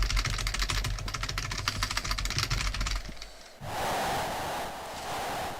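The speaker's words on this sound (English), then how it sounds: "Extra sound effects from the keyboard." Rapid clattering keystrokes on a computer keyboard during an arcade game emulation session, steady and close for about three seconds before giving way to a broad hiss.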